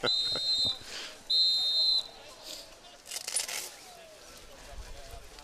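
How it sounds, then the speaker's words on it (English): A referee's whistle at a boys' youth ultimate frisbee pool-play match: two high, shrill blasts, each under a second, sound a moment apart over a busy outdoor crowd and commentary. "Gary Revisor giving the whistle."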